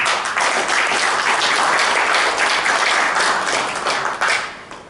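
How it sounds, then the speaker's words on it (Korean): An audience claps for a guest speaker at a lecture forum, dense applause holding steady and loud before tapering off near the end. "여러분 박수 한번 쳐주시죠"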